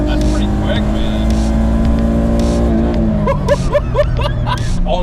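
A V6-swapped Acura Integra revving toward redline, its engine holding a loud, rising drone up close as the pitch climbs, with muffled voices faintly beneath it.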